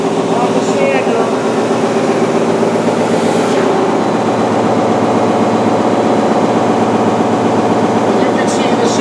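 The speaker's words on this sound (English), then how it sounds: "You hear it pick up on the sander." A Timesaver wide belt sander runs with a loud, steady mechanical drone as a workpiece is fed through, the tone holding constant throughout.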